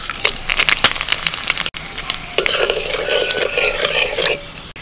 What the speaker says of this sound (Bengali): ফোড়ন দিচ্ছি এলাচ, লবঙ্গ, দারচিনি, জিরে